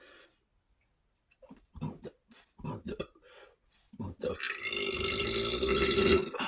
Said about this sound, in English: We also burp around here a lot.